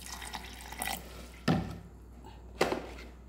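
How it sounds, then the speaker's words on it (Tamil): Water poured lightly into a mixer jar holding ragi idli batter, with a few soft trickles and then two distinct splashing pours, faint and close, with no talk. "தேவையான இந்த தண்ணியை லைட்டாக விட்டுட்டு"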